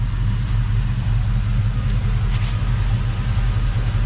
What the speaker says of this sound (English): my exhaust is bumping up against the bottom of my bed. So that's a little bit of that rattle you hear.